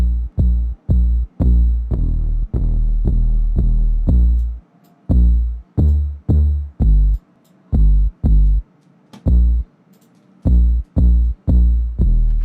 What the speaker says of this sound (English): we're going to basically set up the Decapitator right now while listening to the 808.